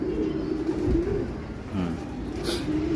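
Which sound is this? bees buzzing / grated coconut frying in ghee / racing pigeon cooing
racing pigeon cooing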